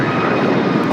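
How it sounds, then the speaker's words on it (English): Sun Country Boeing 737-800 taking off at LAX, a loud continuous jet engine roar, steady and dense throughout the brief moment. "Next takeoff is Sun Country Flight 8501 heading to Kona, 737-800 in that hybrid Sun Country livery"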